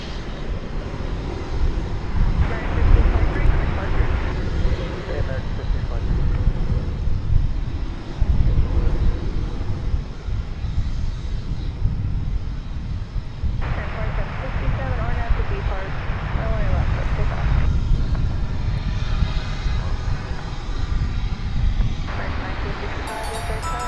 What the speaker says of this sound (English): there's a United 737-800